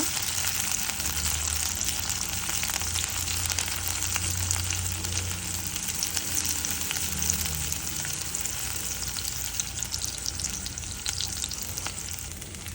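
Tomato is stirred into hot oil in a frying pan, giving a loud, steady, close-up sizzle with an unbroken hiss and no talking.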